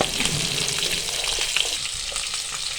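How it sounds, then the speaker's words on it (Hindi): Fish frying in oil on a low flame gives a steady, dense sizzle that holds continuously up close, with faint stirring or shifting sounds mixed in. "लो फ्लेम पे हमने इसको फ्राई किया।"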